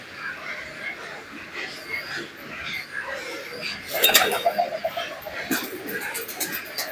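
Pigeons in a loft of teddy and naptha breeds give low soft coos amid background rustle, with a brief louder clatter and flurry of calls midway and faint room noise throughout.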